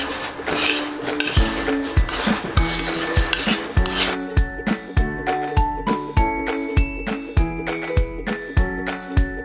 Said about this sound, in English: Add to the sauce and mix.